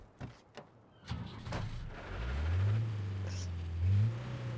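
The Weimaraner W3 car in Just Cause 3 revs up, its engine climbing in pitch and swelling to a loud sustained roar after a few clicks and thumps, with a second surge near the end.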